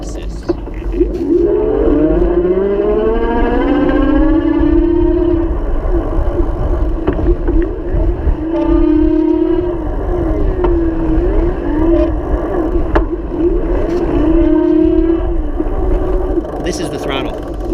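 A Pedego Platinum Interceptor electric bike's hub motor whines at level 5 pedal assist, a loud, close tone that rises and falls repeatedly over road and wind rumble, with no talk over it.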